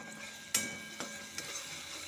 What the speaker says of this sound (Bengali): এই চাল দিয়ে এই টমেটোটা ভাজছি।